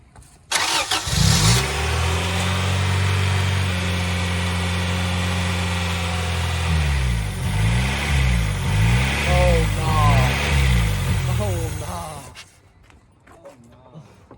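A Honda Integra engine with an air leak starts and runs at a steady, slightly uneven idle, loud and close, with brief revs and a voice speaking briefly near the end.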